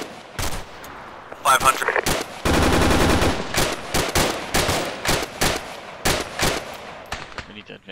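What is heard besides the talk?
machine gun firing in the video game Arma 3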